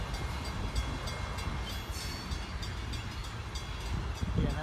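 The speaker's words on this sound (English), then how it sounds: "that's a heavy train" A heavy freight train rolls past steadily and fairly close, a continuous broad rumble with rail noise and wheel clatter filling the whole stretch, no voices over it.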